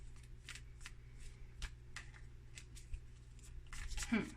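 Tarot cards shuffled and drawn during a reading, a series of soft papery riffles and flicks, close but faint over a steady low hum, with a voice speaking near the end.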